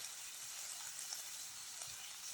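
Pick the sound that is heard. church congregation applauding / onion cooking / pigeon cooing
onion cooking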